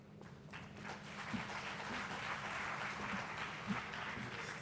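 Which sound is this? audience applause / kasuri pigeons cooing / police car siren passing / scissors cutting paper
audience applause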